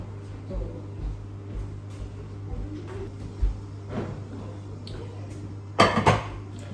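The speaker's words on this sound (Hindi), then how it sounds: "मैं इधर से बस ये बर्तन वॉश करूँगी" Dishes, pots and pans are washed at a home kitchen sink, with steady running water and soft clinks throughout and a sharper burst of clattering cookware near the end. No one speaks.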